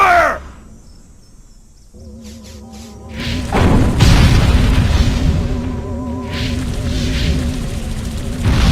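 Weapon fire and booming explosions in Destroy All Humans! swell in after a quiet start with insect-like buzzing, then build to loud, sustained rumbling blasts with warbling sci-fi tones.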